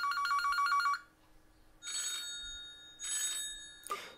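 A Huawei P9 Lite phone ringtone plays from its small speaker in short repeated bursts, separated by pauses, sounding slightly thin and electronic.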